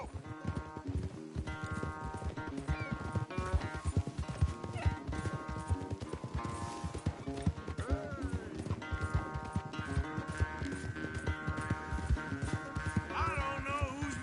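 Horses gallop flat out in a race in Red Dead Redemption 2, rapid hoofbeats drumming continuously under a layered game music score.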